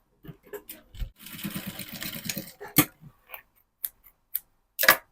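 A sewing machine stitches fabric while a zipper goes into palazzo pants, giving a short run of rapid mechanical ticking followed by scattered clicks and knocks from handling, close by.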